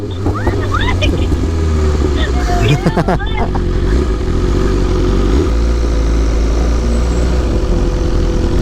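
A 1000cc big bike motorcycle engine idling and briefly revving, a loud close throaty rumble that runs throughout while people chat over it.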